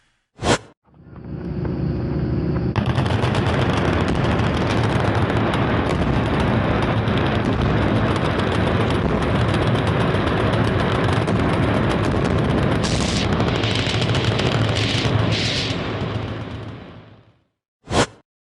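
Gunfire and explosives at a Kentucky gun range, heard as a long, dense roar of blasts and rumbling booms lasting about fifteen seconds, loud and sustained, framed by two sharp isolated cracks at the start and end.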